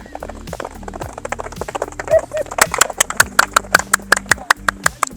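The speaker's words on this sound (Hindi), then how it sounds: "ये फ़िलहाल जो है वो घोड़े रेडी किए जा रहे हैं फॉर द टेंट पैकिंग" Horses being readied for tent pegging in Pakistan clip-clop on hard ground, first as scattered hoofbeats and then as a steady, quickening run of loud strikes, with voices talking underneath.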